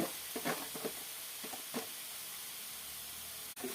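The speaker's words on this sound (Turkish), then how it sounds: "Rendelemiş olduğumuz elmaları bırakıyorum içine." Grated apples dropped into a pan on the stove give a soft, steady sizzle with a few brief stirring bursts, fairly quiet and close, with no talk.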